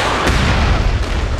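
Incoming artillery in the MAG shooter game: a dense, loud rumble of booms and blasts with one sharp crack early on, rolling on continuously with no voices over it.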